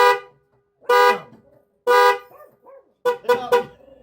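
A dog barking down a driveway near a 2001 Pontiac Firebird, several sharp, loud barks in a broken rhythm with short pauses, heard close and without talk.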